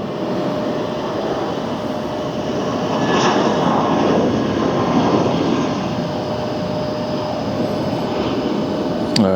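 A jet airliner roars steadily overhead at Philadelphia International Airport, its engine drone swelling slightly in the middle and holding loud throughout.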